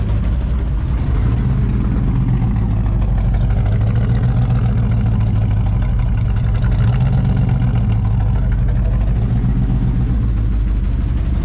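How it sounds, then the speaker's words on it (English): An engine with an exhaust leak, running rich, idles loudly and steadily with a deep, uneven rumble and a raspy, puffing exhaust rhythm, close by and continuous throughout. "We got a mean exhaust leak over here."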